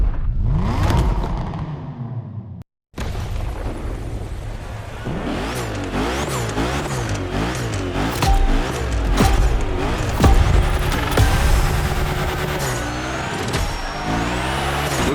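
Engines rev hard and tires squeal as several cars do donuts in The Crew Motorfest at a Hoonigan gymkhana event, loud and sustained with repeated wavering revs throughout.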